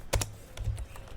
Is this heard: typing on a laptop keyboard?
yes